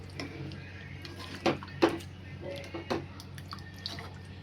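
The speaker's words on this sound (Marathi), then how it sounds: "मी पातळ रस्सा करणार आहे ना म्हणून थोडं जास्त पाणी टाकलं आहे" Water pours and splashes into a cooking pot for a thin chicken curry, with short clinks of metal and a couple of sharper splashes, heard close and fairly quiet.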